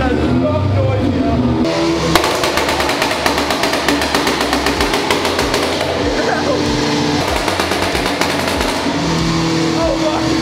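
A tuned Audi S3 engine on a dyno roars and revs hard, climbing and dropping in pitch with sharp rapid pulses, close up and continuous throughout.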